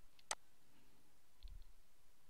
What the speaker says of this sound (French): c'est cliquer et faire CTRL-V